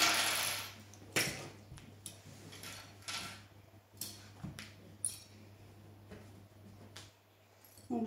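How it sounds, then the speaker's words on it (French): Sewing pins come out of madras fabric on a handmade bag: a series of small, irregular metallic clicks and taps, close and quiet, over a low steady hum, with no talk. "hop, je vais retirer les épingles"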